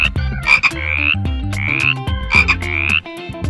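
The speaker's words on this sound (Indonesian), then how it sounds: "mereka melihat 3 kodok yang melompat-lompat sambil berbunyi" Several frogs croaking by a pond, loud and close, in repeated overlapping throaty calls with a few rising, whiny notes.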